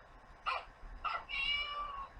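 Recorded cat meows from a children's sound book, three short faint meows, the last one longer and drawn out.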